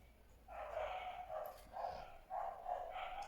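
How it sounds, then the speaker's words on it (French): Dogs barking in a steady run of repeated barks, moderately loud and slightly distant, with no talk over them. "il y a les chiens là"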